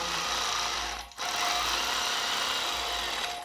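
A longarm quilting machine stitches arcs across a quilt with a steady, close mechanical whir. The whir dips briefly once, then carries on evenly.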